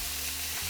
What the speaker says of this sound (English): Listen to that little sizzle, we'll put that over here.